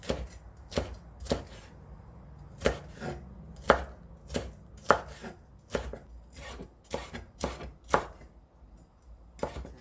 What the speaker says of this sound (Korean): 이렇게 해서 길쭉길쭉 썰어주세요.